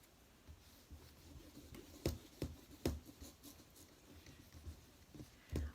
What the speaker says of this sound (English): now I'm going to erase this